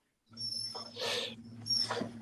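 Several dogs whimpering and yipping in a home, high whining cries in two bursts with a steady low hum underneath, fairly close and moderately loud.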